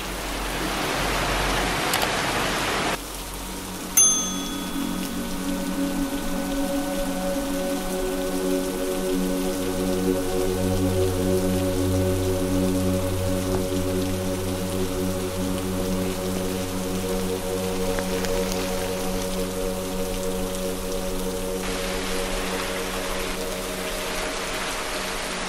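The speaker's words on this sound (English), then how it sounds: "it's raining a lot" Heavy rain pours steadily in Sri Lanka, a dense, continuous hiss that fills the whole stretch, with a low mechanical hum running beneath it.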